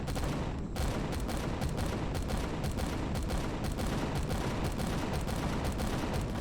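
Enemies fire on the player in the space survival video game Empyrion Galactic Survival: dense, sustained automatic gunfire with rapid overlapping shots that continue steadily and loudly throughout.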